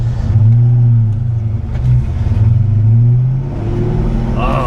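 A salt-water-flooded supercharged Ford Mustang engine pulls hard close by, its deep throbbing note rising and falling through a couple of surges and ending on a higher-pitched whine as it accelerates.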